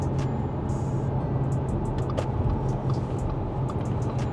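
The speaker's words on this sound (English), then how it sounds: "you hear the wind passing through the space between the car and the mirrors, the outside mirrors, and a bit of tire noise" Steady broadband wind rush and low tire roar inside a 2015 Audi A5 at speed, a continuous even drone with brief faint higher flutters and no talking.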